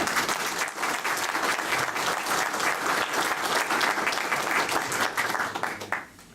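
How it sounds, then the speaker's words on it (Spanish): Strong sustained applause from an audience in a meeting hall, many hands clapping densely and evenly before dropping off abruptly near the end. "Un aplauso por favor para ellos."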